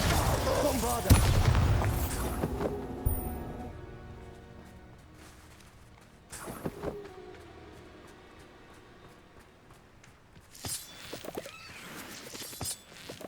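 The Bombarda explosion spell from the video game Hogwarts Legacy lands among other spell effects, several booming blasts and crackling bursts spread across the clip. Faint in-game voices and music murmur between the impacts.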